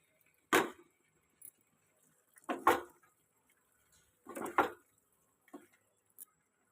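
Pieces of chicken drop into a pan of well-fried spice paste for a burnt-spice chicken kosha, giving four short, separate thuds and clatters spaced about a second or two apart, with quiet gaps between them.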